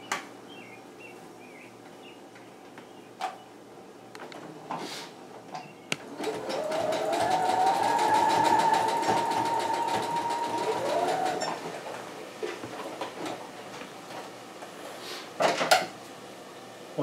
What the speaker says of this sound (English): right over the line where your elastic is folded over, you're going to start zigzag stitching